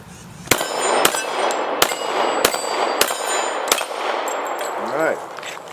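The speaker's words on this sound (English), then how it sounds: "let me see if I can hit anything with this gun" A .45 caliber handgun fired at targets at a range, six sharp, loud shots spaced roughly half a second apart with ringing metallic tails between them.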